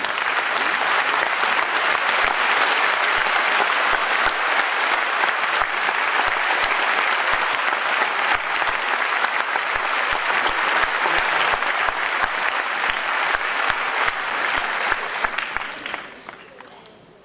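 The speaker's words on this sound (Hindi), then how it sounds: "जो तालियां बजा रहे थे, इन्हें और इतना लंबा बजाएं" A large crowd at an award ceremony claps continuously in sustained, dense applause that lasts a long while before fading out at the end.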